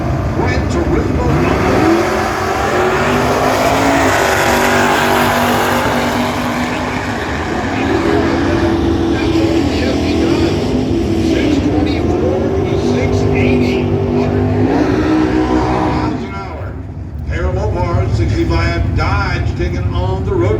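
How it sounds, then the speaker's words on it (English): Mopar and Pontiac GTO muscle cars drag racing at a car show drag event, engines roaring loud and steady throughout with a brief dip near the end, while a voice commentates over them. "they get staged with Mopar over in the left lane, taking on the GTO here in the right lane"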